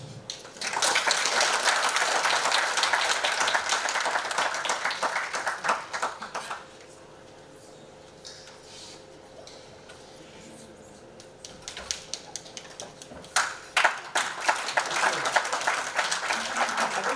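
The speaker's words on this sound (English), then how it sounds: "Let's give another round of applause to Professor Kambala" Audience applause for a professor's presentation at a university AI book launch, a loud burst of many clapping hands that dies down to quiet murmur midway, then swells again into full clapping.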